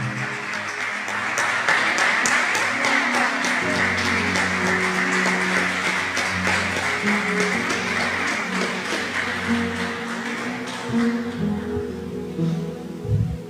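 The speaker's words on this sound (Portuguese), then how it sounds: "Vamos aplaudir ao Senhor." Congregation in a church claps steadily and densely for several seconds over sustained musical tones, the sharp hand claps thinning toward the end.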